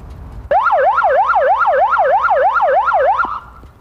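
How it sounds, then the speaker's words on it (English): A police motorcycle's electronic wail siren sweeps rapidly up and down in a steady repeating cycle for about three seconds, loud and close, then stops abruptly. "It also has a siren."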